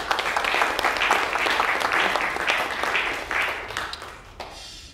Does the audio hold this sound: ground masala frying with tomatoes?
no